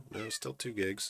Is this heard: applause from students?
no